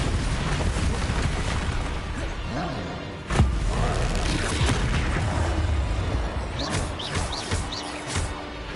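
Spell combat in Hogwarts Legacy on PS5, dense layered magic effects with a sharp booming blast partway through and whooshing casts after, loud and continuous, with a voice calling out spell names.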